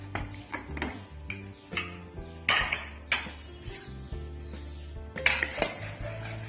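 Metal kitchenware clanks and clinks in a series of sharp, close knocks as a pressure cooker holding cooked ash gourd and lentils is handled and opened, with ringing metallic hits scattered throughout and no speech.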